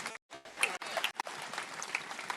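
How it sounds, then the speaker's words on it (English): Outdoor crowd at a youth march in Tuscaloosa, Alabama breaks into applause, a brief scattered burst of clapping, fairly faint and distant, with a short gap near the start. "Give yourselves a big round of applause"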